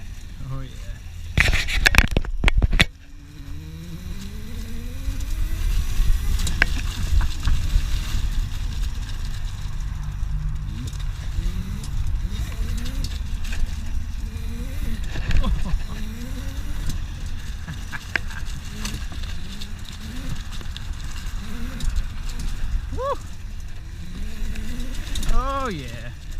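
An overvolted 80V EXR100 electric bike being ridden hard with a headlight fitted, its motor whining up and down in rising sweeps over steady wind rush, with a few sharp knocks early on and occasional excited voices.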